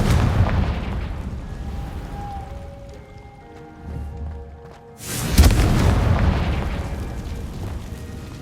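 A Confringo fire spell explosion in the Hogwarts Legacy video game, a sudden loud blast and burst after quieter game ambience and tones, followed by a rumbling tail.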